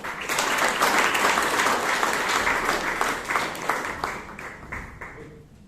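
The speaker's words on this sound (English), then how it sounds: "with a thundering round of applause, please welcome Toastmaster Yash Mehta" Audience applause at a Toastmasters club meeting in Bangalore, a steady, dense wash of clapping from a room of people that tapers off near the end.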